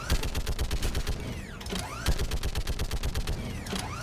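Gun turret in a video game firing rapid, steady bursts of loud mechanical shots, with whirring, creaking sweeps between volleys and no talk.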